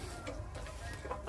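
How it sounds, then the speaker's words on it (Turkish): Faint clucking from ornamental chickens sounds softly over a low background hum. "Tavuklar."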